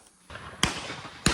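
Two sharp, loud shotgun blasts go off about half a second apart during an opening-day dove hunt in Georgia, each followed by a brief outdoor echo.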